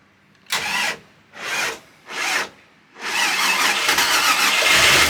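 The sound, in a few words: old yacht's twin big-block engine starting and running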